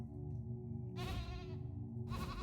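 A person's voice imitates a sheep bleat during Cult of the Lamb gameplay, two short wavering bleats over a low steady game hum.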